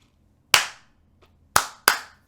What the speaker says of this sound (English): and then these claps too